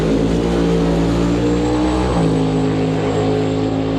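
Fox body Mustangs of the X275 drag racing class roar down the strip, a loud sustained engine drone with shifting pitch and no commentary over it.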